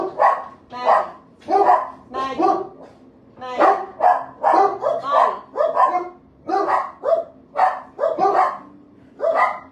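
A dog barks repeatedly in a home setting, a rapid series of close, loud woofs in uneven bursts over about ten seconds with short pauses between.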